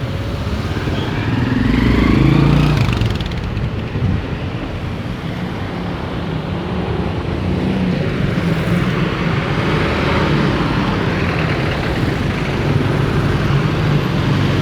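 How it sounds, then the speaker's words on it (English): Dense car and motorcycle traffic on a city street in Marikina, Philippines, a continuous loud roar of engines and tyres with a vehicle passing near at the start and wind buffeting the microphone. "A lot of cars."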